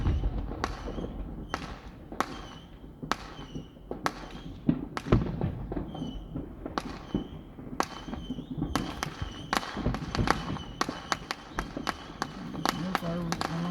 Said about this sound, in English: Somebody's setting up a load of screamers.